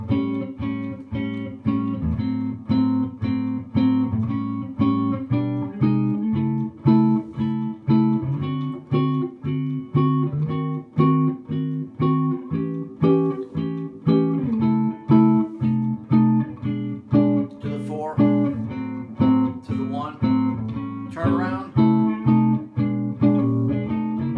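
Steady rhythmic jazz blues guitar chords strummed in a shuffling groove, continuous and fairly loud with no talking.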